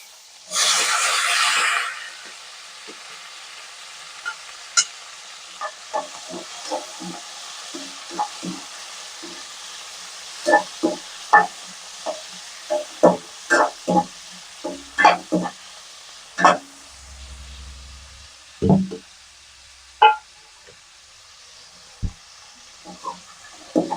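Chopped onions and tomatoes are stirred in a hot pan. A loud sizzle bursts as they go in, then a faint steady fry continues under repeated sharp scrapes and clinks of a spoon, all close by.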